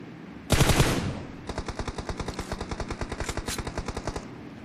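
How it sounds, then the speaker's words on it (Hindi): Automatic gunfire in a video game shooter: one loud, close burst, then a steady rapid string of shots firing evenly for several seconds, with no voices. "दीपू कवर फायर दिंदा रहा"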